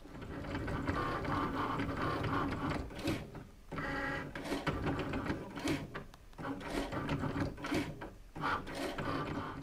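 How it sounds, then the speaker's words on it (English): A Cricut cutting machine runs with an engraving tool, a close mechanical whirring and buzzing with repeated short bursts and brief pauses as the carriage moves back and forth. "we're going to load it in and press that flashing Cricut button"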